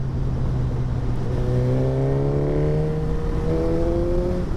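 A tuned Suzuki GSX-S1000 GX motorcycle accelerates hard, its engine note rising steadily in pitch through the revs. The sound is loud, continuous and close, with no talking.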